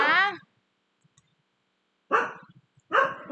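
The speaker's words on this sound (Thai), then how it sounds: "จะเห่าอะไรดักหนา" A dog barks in short bursts near a Thai woman presenting a gold price analysis, with two or three loud barks separated by a quiet gap and no talk over them.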